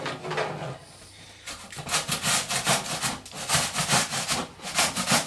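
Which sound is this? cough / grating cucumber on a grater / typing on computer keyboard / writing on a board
grating cucumber on a grater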